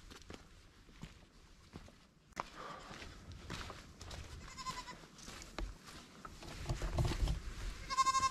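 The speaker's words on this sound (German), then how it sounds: "Ja, habt ihr den jetzt gehört? Den Ziegenkopf, den. Da war es wieder. Eine kleine Ziege da vorne." A small goat on a mountain trail in the Tramuntana range of Mallorca bleats a few times at a distance, faint against quiet outdoor air and the patter of footsteps nearby.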